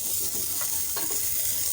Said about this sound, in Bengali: দিয়ে দিচ্ছি লবণ হলুদ মাখানো বেগুন